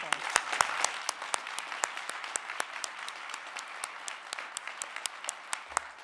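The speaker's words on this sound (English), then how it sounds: "So a round of applause" A conference audience at a sustainable finance event breaks into applause: a steady, fairly faint wash of many hands clapping that continues throughout without voices.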